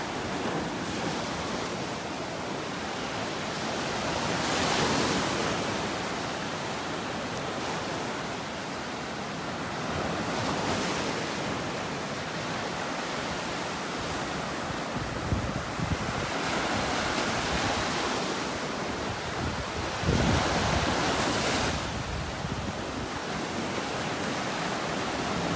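Waves rolling onto the beach at North Naples, Florida, a continuous wash of surf with periodic swells breaking every few seconds, mixed with wind buffeting the microphone and no voices.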